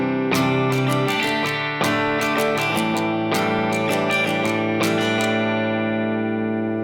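Acoustic guitar strums the rhythm for the bridge section of a song, with steady down and up strokes and sharp chord attacks over about seven seconds, played alone without talk.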